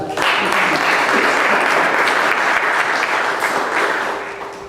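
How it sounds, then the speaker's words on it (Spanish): A large crowd at a legal training seminar applauds loudly and steadily for several seconds, the clapping tapering off slightly at the end. "Por favor, recibámoslo con un fuerte aplauso."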